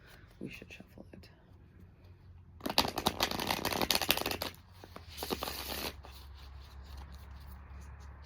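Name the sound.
shuffling a deck of tarot cards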